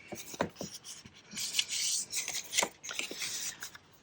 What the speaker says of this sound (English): I'm going to do the other short end 1/2 inch score line